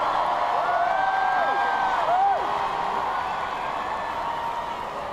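Enormous crowd outside the Buckingham Palace balcony cheering, a steady distant roar with rising and falling whistle-like tones drifting over it.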